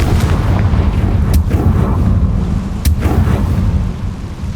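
Confringo blasting spell in the video game Hogwarts Legacy: heavy explosive booms with sharp cracks near 1.4 and 2.9 seconds over a dense, rumbling low background, loud and continuous with no talk.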